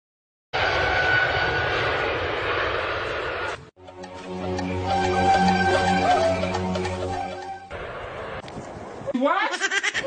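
A steady airplane engine roar fills most of the clip from inside the plane, with a droning hum in the middle and a brief break before it resumes.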